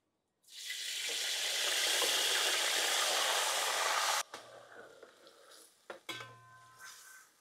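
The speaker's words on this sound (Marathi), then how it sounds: "आपण आता इथे मॅरिनेट केलेलं मटण घालून घेऊ।" Marinated mutton dropped into hot oil bursts into a loud, steady sizzle that holds for a few seconds, then cuts off into quieter scraping and clinking of a utensil against the pan.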